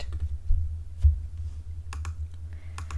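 Someone types a short note on a computer keyboard, making a few sparse, quiet key clicks over a low background hum.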